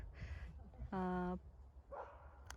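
A dog at a countryside recreation base gives one loud, clear bark up close between stretches of people talking, with a softer yip or whine after it.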